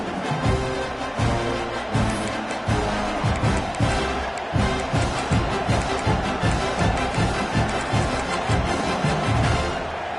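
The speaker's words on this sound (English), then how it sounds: "This crowd ready to make its presence known." A big crowd at a college football game with the Sooners roars loud and steady at the opening kickoff, a dense wall of sustained stadium noise with rhythmic surges running through it.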